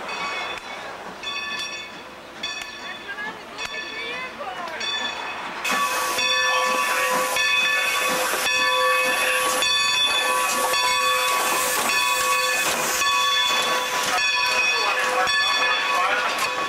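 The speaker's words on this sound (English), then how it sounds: "Here comes the train." A steam train hisses loudly with a sustained whistle, growing louder partway through as it draws near, rumbling and chugging close by.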